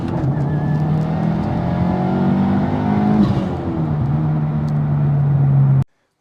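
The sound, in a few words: Subaru WRX accelerating hard in a pull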